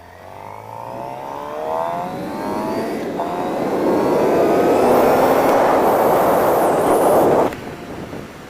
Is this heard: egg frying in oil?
no